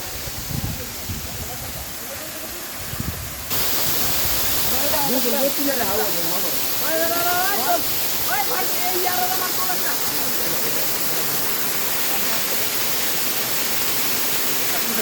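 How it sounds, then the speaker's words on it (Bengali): Water pouring steadily down the three streams of Suptadhara waterfall near Chandranath hill, Sitakunda, muddy after rain; a constant close roar of falling water, softer at first and then swelling to a loud wash, with a voice talking over it. "মোট তিনটা দিয়ে পানি পড়ছে তবে এই বৃষ্টি হওয়ার কারণে মোটামুটি এখন হচ্ছে ঘোলা পানি"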